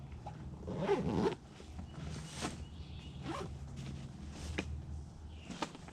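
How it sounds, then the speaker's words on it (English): A heavy zipper on a ground hunting blind is pulled in several rough, raspy strokes, the longest near the start. It sounds close and fairly quiet, with a few brief scrapes and rustles between the pulls. "You got a nice heavy zipper on this too."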